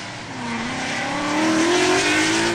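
An S550 Mustang drift car on a qualifying lap at a drift series event, its engine holding a loud, sustained high-revving drone that climbs steadily in pitch, mixed with tire noise, heard from a distance.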